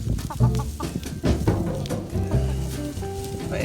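Chickens cluck close by in a garden, a busy run of short overlapping clucks and throaty calls, loud and continuous with no talking.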